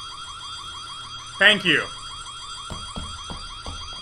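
An alarm rings without a break in the Korean horror video game White Day, set in a school. It is a steady electronic tone with faint ticking, and a voice speaks briefly over it.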